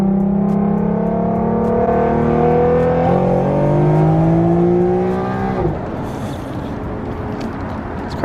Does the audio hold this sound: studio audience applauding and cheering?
no